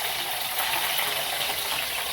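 Green chillies fry in hot oil in a pan, a loud, steady hiss and crackle that stays even throughout with no talk over it.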